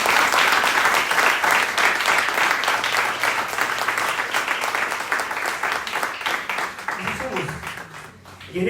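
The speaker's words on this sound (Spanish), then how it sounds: "Dan un aplauso al Señor" A church congregation breaks into dense applause during a Spanish-language sermon, loud and sustained for several seconds before thinning near the end, with a voice rising over it briefly.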